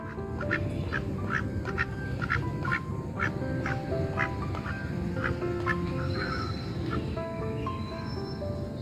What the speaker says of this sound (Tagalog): Kumasalubong yung itik.